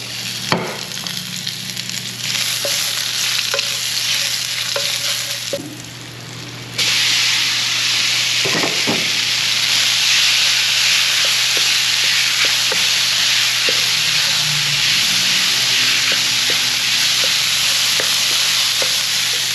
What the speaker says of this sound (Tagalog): Ngayon naman pa-fried rice na po tayo.